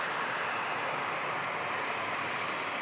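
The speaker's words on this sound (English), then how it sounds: "Now we can enjoy this 7-6 touchdown." An Icelandair Boeing 767 touching down at Manchester Airport produces a continuous, even jet roar, loud and unbroken, with no voices over it.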